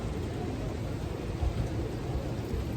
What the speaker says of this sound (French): Là il pleut.